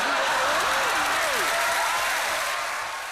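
Studio audience applauds Frankie Howerd's catchphrase, a continuous broad roar of clapping and crowd noise that gradually fades, with a voice wavering faintly underneath.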